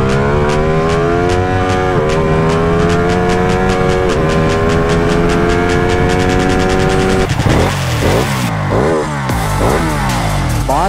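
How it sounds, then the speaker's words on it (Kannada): A Ducati Panigale 899 twin-engine sport motorcycle runs loud and close, its engine note climbing steadily in pitch before a few sharp throttle blips and revs near the end. "ಸೊ ನಾವು ನೆಕ್ಸ್ಟು ಪ್ಯಾನಗಾಲೆ ವಿಟು ನೋಡೋಣ. ಟ್ವಿನ್ ಇಂಜಿನ್ ಇದು,"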